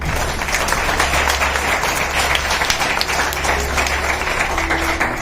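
A church congregation claps for Jesus during a sermon, a dense, steady round of applause lasting several seconds with a low hum underneath.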